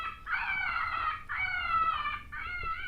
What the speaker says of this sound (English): It looks more interested in them coyotes to the left that are howling.